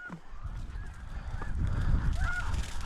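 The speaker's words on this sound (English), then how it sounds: "the birds are kind of landing behind us back here now" Geese honking during a waterfowl hunt in a wheat field, several scattered honks at middle distance over a steady outdoor rumble of wind.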